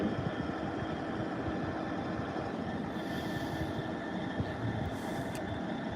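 Class 66 diesel locomotive standing at a station platform, a steady dense rumble of its idling engine filling the scene with a constant low drone and faint higher hiss, no voices.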